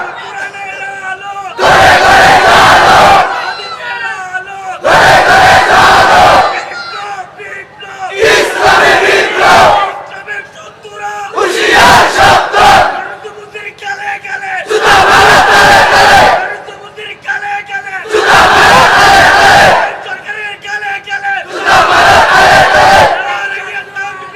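A large crowd at an Islamic religious gathering shouts the takbir call in unison, seven loud, evenly spaced roaring bursts with brief quiet gaps between them.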